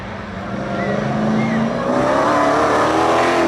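A 900-horsepower Hellcat roars at a spectator drag race at a speedway, its loud engine growing and revving steadily louder as it comes close, with crowd noise and some talk underneath.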